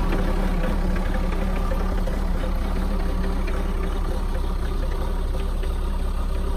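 A Mahindra ROXOR diesel engine idles steadily just after a cold start following a polar vortex, a loud continuous close-up rumble with no pauses or talk.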